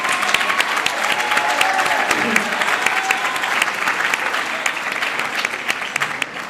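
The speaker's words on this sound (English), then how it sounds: "give him a round of applause" At a high school band banquet, a large room of people gives Trey Mason a round of applause, full and sustained for several seconds before slowly thinning toward the end.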